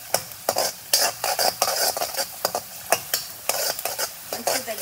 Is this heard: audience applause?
no